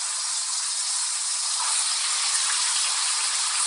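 Ackee dropped into a hot pan with fish for a Jamaican dish gives a steady, even sizzle, a bright continuous hiss that holds level and close without breaks, with no talking over it.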